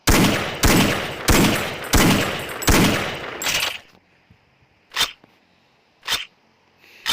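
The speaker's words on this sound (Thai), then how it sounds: "เห็นป่ะอันนี้คือผมกดค้างแล้ว มันจะยิงทีละนัดนะครับผม" Counter-Strike gunfire: four loud single shots at a steady pace, then a pause and two more isolated shots, each sharp and close with no talk over them.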